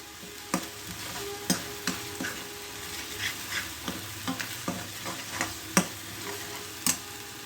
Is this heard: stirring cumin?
yes